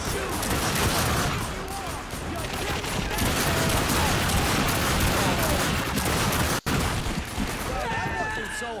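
Dense, continuous gunfire from The Darkness 2 video game, a loud sustained barrage with overlapping shots and bursts, briefly cutting out near the end, with voices talking underneath.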